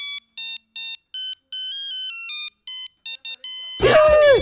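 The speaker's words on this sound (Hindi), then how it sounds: "भगवान, इस वक्त किसका फोन है?" Mobile phone ringing at night with a loud, close electronic ringtone of short repeated melodic beeps in a steady pattern, ending as a voice breaks in.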